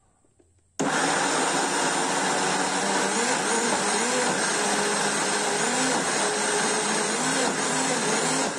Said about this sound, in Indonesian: Masukkan jagung seluruhnya ke dalam blender dan berikan sedikit air ya Bunda dan blender